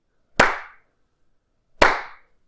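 Two sharp, separate hand claps roughly a second and a half apart, loud and close, used to trigger an Arduino sound sensor switch, with silence between them and no talk.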